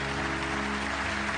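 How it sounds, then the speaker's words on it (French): Dense, steady applause from an audience at a Talents des Cités 2014 event, a short unbroken burst of clapping filling the room. "Encore des applaudissements très nourris pour Nadia, s'il vous plaît."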